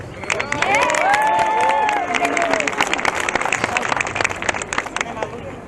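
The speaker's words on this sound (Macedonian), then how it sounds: "Еден голем аплауз за сите нас." A crowd at a Macedonian protest in Toronto claps and cheers steadily, with shouts and a whistle rising early on over the sustained applause.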